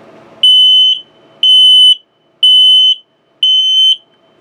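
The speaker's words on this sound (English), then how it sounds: "It'll go through two self-tests. First one for LP, second one for carbon monoxide." Carbon monoxide and LP gas detector in a 2021 Flagstaff 206STSE tent camper running its self-test: four loud, steady high-pitched alarm beeps of about half a second each, evenly spaced about a second apart, sounding alone in a quiet interior.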